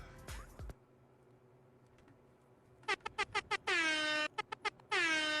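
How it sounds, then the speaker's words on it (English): Air horn sound effect blasting in a string of short loud honks and longer sustained blares, following a quiet stretch with a brief burst at the start. "Got the air horns ready for you."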